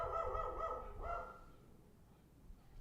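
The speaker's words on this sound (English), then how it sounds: "Now he's making the other dogs bark." Outdoor dogs bark twice in quick succession, somewhat distant and muffled, and then the sound fades to a low ambient rumble.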